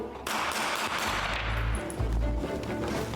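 Gunfire from a military training exercise above the Arctic Circle: a dense, rapid burst of loud, sharp shots fired close together with no break, filling the whole three seconds, with heavy low booms near the end.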